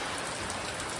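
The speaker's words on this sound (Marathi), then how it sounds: "पावसाचं झालं आहे आगमन" A downpour of heavy rain keeps up a thick, constant roar of drops striking nearby surfaces, loud and even throughout.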